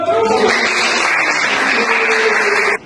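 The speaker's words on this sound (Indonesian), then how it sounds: "Oke, terima kasih, tepuk tangan dulu dong." Classroom applause during an Indonesian teaching-practice session: a steady, dense wash of many hands clapping for about three seconds, with voices mixed faintly into it, cutting off abruptly at the end.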